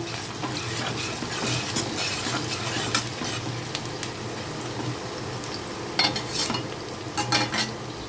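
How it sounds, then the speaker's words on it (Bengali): Onions fry lightly in a pan with a constant gentle sizzle and repeated clinks and scrapes of a spoon stirring against the metal, near and without speech. "এখন পেঁয়াজটাকে আমি একটু হালকা করে ভেজে নেব"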